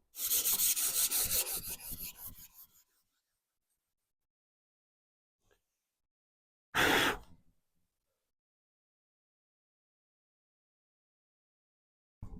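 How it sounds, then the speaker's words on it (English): A 1920s Federal-style mahogany fold-top console's first coat of finish is hand sanded with 320 grit, a close, steady rubbing scrub for nearly three seconds, then silence and a second short burst of rubbing. "We're going to give it a quick sand with like some 320, and then we'll apply a second coat."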